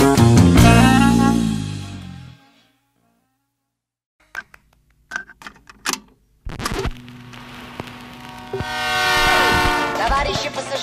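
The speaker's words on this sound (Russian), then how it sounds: "поезд Москва Одесса отправляется от первой платформы" A Moscow–Odesa passenger train departs from a platform: loud horn blasts fade to silence, then brief sharp clanks, followed by rising rumble and clatter as a second horn swells near the end.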